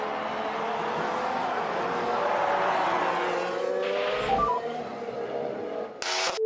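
A Formula 1 car from the 2018 season locks its brakes at turn 1 and runs wide over the runoff and grass, a sustained high engine whine with a brief tyre scrub near the end, mid-distance.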